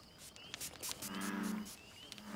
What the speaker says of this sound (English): that is the sound of a Northern Quebec bullfrog.